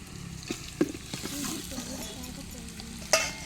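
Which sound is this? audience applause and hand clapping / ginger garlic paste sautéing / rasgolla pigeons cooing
ginger garlic paste sautéing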